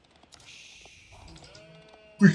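Sheep bleating in the Age of Empires 4 video game, with faint game tones and quiet sounds first, then a short loud close bleat right at the end.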